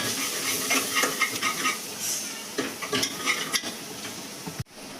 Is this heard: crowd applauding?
no